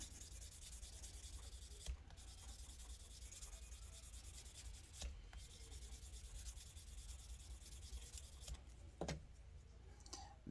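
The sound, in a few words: sanding and polishing plastic car interior part with sanding stick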